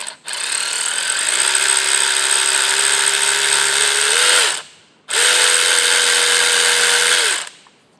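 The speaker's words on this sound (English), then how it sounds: "I've just got it in a tap holder here that fits into a ratchet, and I'm using my little powered ratchet here" A small powered ratchet drives a number 5 reamer in a tap holder while reaming pins during Monarch 612 lathe repairs, giving two loud, close, steady motor whirs separated by a short pause.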